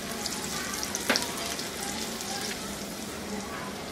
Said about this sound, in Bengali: চুলার জালটা একটু হাইয়ে করে দিলাম যাতে পেঁয়াজটা একটু জলদি বাদামি বাদামি হয়ে যায়